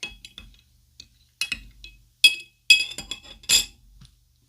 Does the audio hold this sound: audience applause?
no